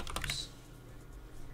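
A burst of quick keystrokes on a computer keyboard while editing a FiveM server config file, clustered in the first half second and then fading to quiet room hum.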